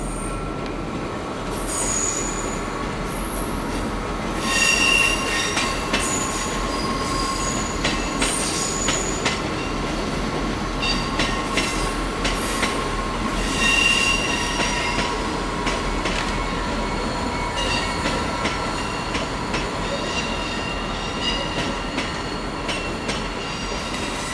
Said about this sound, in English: We just had a diesel train departing us there.